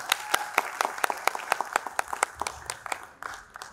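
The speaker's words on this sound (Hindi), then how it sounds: "उनके लिए जोरदार ताली।" Applause for the director after an amateur Hindi stage play: a fairly loud run of claps from a modest audience, irregular and slightly thinning toward the end, with no voices.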